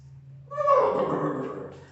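A voice imitates a horse's neigh, a single wavering whinny that rises quickly and trails off, fairly close and moderately loud.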